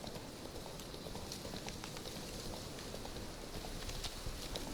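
Geralt's horse Roach galloping in The Witcher 3, a steady, dense rumble of hoofbeats carrying on without pause over an ambient game backdrop.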